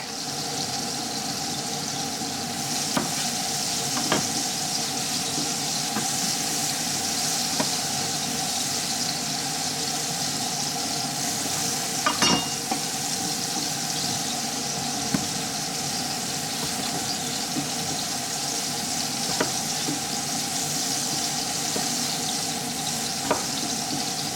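Halloumi cheese frying in a pan for a Turkish-style salad: a steady, loud sizzle runs throughout, with occasional clinks and stirring sounds over it and no voices.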